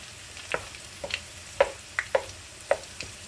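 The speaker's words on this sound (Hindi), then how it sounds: "जो साबित मिर्चें हैं वो लेकर आए और थोड़ा सा इनको फ्राई करेंगे एक मिनट के करीब" Whole dried chillies fry over full heat in a pan beside pushed-aside onions, a quiet background sizzle punctuated by a series of crisp spoon taps and scrapes at irregular intervals, with no voice.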